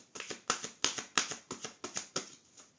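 A deck of tarot cards being cut and handled, a rapid series of about ten crisp papery snaps and slaps in a quick, regular rhythm, close and quiet with no voices.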